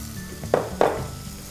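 Okra and other vegetables go into a pan with softened tomato for Udupi sambar, giving a soft sizzle broken by two sharp metallic clinks of utensil on pan.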